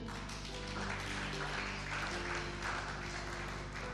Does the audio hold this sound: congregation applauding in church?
yes